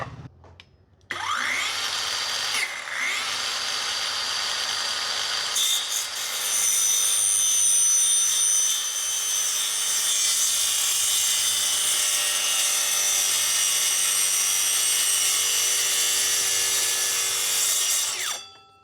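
Hanabi cordless brushless circular saw, battery powered, cutting through steel tubing: a sharp whine starts with a bite into the metal and then a loud, sustained grinding screech that holds steady for about sixteen seconds before winding down.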